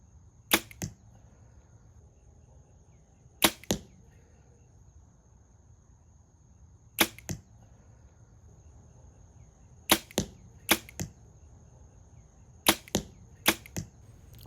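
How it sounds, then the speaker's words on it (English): An Oneida bow shoots heavier 540-grain arrows, giving sharp snapping releases in pairs or triples at irregular intervals. Faint insect chirping and a steady high hum run underneath throughout. "this is what I'm going to shoot now, just a heavier arrow to see the difference"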